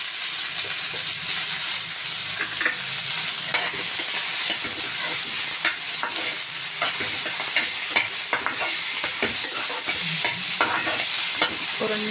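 Tomato and onion sauté in sesame oil for a pepper kulambu, with a steady sizzle and repeated scraping stirs of a spoon against the pan, close and fairly loud.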